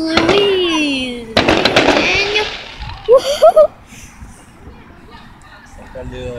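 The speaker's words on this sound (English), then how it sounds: "look at the fireworks!" Fireworks bursting outdoors, a few sharp pops and crackles partly buried under excited talk from nearby people, with a brief whistle-like burst in the middle.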